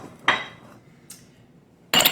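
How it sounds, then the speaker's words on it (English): Dishes are cleared off a kitchen counter while a quinoa tabbouleh is plated: three separate ceramic clinks and clatters, close and fairly sharp, with quiet gaps between them. "Clear off some of our dishes here."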